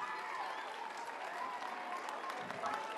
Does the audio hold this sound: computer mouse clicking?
no